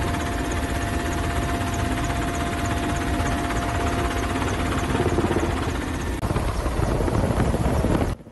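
A firefighting helicopter works over a burning forest strip near Hadrut, its rotor and engine giving a loud, steady, continuous throbbing roar with no voices, cutting off abruptly at the very end.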